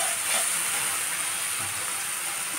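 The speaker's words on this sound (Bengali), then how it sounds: "কষানো হয়ে গেছে, এবার জল দিয়ে দেবো" Water hits a hot pan of fried spice mix, giving a steady, fairly faint hiss and steam sizzle that holds for a couple of seconds without talk.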